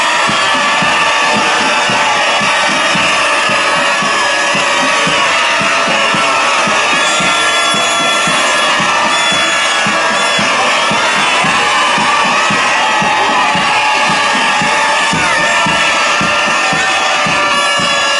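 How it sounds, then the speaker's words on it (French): A dense crowd cheers and shouts at a graduation ceremony's announcement of results, loud and continuous joyful roar with high voices and music mixed throughout. "Musique, fanfare, cris de joie de toutes parts."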